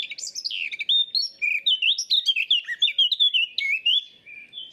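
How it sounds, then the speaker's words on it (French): Eurasian blackcap song from a played recording: a fast, varied warbling of chirps and whistled phrases, loud and continuous, bird alone. "Je vous fais écouter, ça c'est la fauvette à tête noire."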